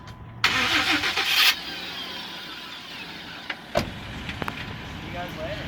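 A Jeep Wrangler JK engine, freshly swapped after rod knock, cranks and catches with a loud burst, then settles into a steady idle. A few sharp clicks and knocks sound nearby.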